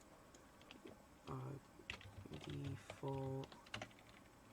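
Typing on a computer keyboard, with short bursts of clattering keystrokes under a quiet voice that speaks briefly during a tutorial on Minecraft texture packs.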